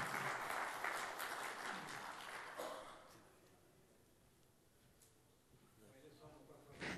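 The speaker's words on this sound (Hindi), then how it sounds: "मैं चाहूँगा कि आप भरपूर तालियों में उनका इस्तकबाल करें।" Applause from an audience welcoming a poet at a mushaira gathering, loud and dense for the first few seconds, then fading into a quieter murmur with a brief swell at the end.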